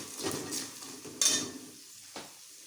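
A spoon scrapes and stirs spices, peanuts and garlic in a pan for kara pori, giving soft scraping strokes, a sharper clink of metal partway through and a faint later tap, fairly quiet with no talking.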